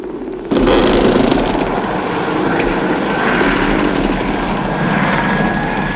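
A helijet from the Joe 90 puppet series sets down: a sudden loud onset of whining, rushing aircraft engine noise that holds steady with a thin high whine rising near the end, no voices.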